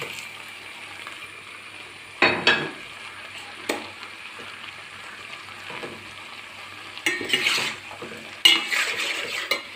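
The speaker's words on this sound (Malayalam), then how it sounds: "ചെമ്മീനിലേക്ക് ഞാൻ ഈ" Prawns sizzle quietly in a pan for prawn roast, broken by several scraping bursts of stirring as a ground mix of sautéed onion and tomato is worked in; no voices.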